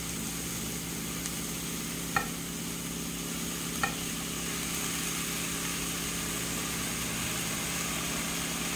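Red cabbage sizzles steadily in a hot pan while it is stirred for a cabbage fit pie, giving a continuous close-up frying hiss with a couple of faint scraping clinks and no talk.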